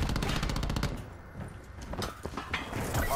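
Rapid machine-gun fire rattles loud and close in Call of Duty Black Ops 4 ranked multiplayer, a dense burst for the first second, then scattered shots and more bursts under the game's background din.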